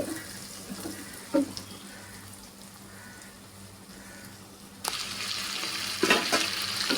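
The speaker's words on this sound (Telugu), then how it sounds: "ఉల్లిపాయ బాగా ఆయిల్లో ఫ్రై అయింది" Onions frying in oil in a pan, a soft steady sizzle with occasional clinks, then a louder hissing surge near the end, close and alone without speech.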